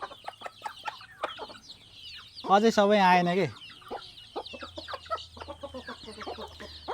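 Local village chickens cluck close by, with one loud drawn-out squawk in the middle and many short clucks around it, while a person speaks briefly over them.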